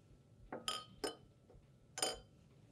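A glass boiling tube being set down in a beaker of hot water gives three light glassy clinks, spaced apart and close by, in an otherwise quiet room.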